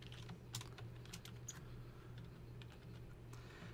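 Rapid typing on a computer keyboard, a quick irregular run of soft key clicks close up and fairly quiet against a low steady hum, with no talking.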